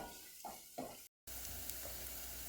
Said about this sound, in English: We're going to sweat them off for a little bit. Then we're going to add our garlic.